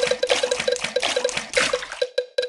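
Cartoon water splashes in a Peppa Pig swimming race video game: quick rhythmic splashing bursts repeating rapidly, each with a short tonal blip, ending in a few sparser splashes.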